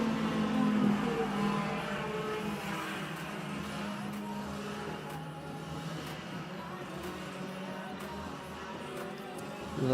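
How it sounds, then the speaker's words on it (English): Racing kart engines rev and drone in the background at a kart track during a club championship round, giving a continuous, moderately distant buzz with faint voices mixed in. "lovely revs going on in the background as well."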